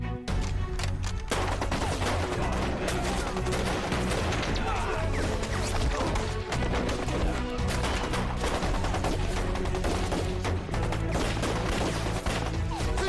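Rifle gunfire in a war-film battle against Japanese troops: dense, continuous volleys and crashing impacts over a steady loud bed of music and effects, with voices faintly underneath.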